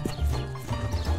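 A horse's hooves clop in a quick, uneven rhythm close by while the animal seems to give a short whinny, all heard plainly with no talk.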